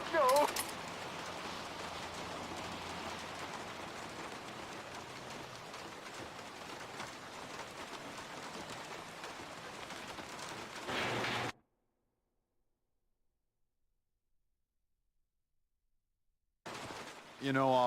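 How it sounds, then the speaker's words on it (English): Heavy rain pours steadily in the Max Payne game, a dense continuous hiss that cuts to near silence and then returns briefly. "I don't remember the rain sounding so brutal."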